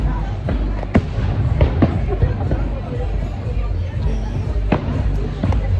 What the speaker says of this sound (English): Everybody watching the fireworks.